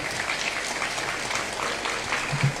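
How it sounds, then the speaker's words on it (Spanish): A church audience claps in a continuous, moderately quiet patter that holds steady without rising or breaking off. "Si usted puede aplaudir, aplauda."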